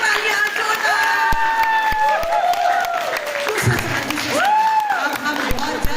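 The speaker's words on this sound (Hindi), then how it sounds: "तो मेरे लिए तालियां जोरदार।" A studio audience at a Hindi stage show claps and cheers while music plays with sustained melodic tones, and the applause swells and rolls beneath it.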